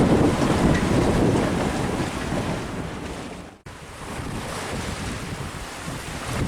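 Sailboat WildChild at sea sailing upwind, with continuous rushing waves and heavy wind buffeting the microphone and a brief dropout partway through, no voices.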